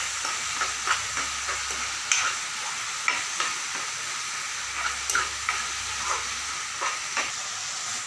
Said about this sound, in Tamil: மிளகுத்தூள் போட்டாச்சுங்க இப்போ ஒரு டைம் கலந்துட்டுருவாங்க